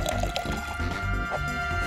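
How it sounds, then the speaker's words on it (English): Milk poured from a container into a bowl for a batter, a steady liquid pour with dribbling and splashing close by, continuous for about two seconds with no talk. "Pour some milk."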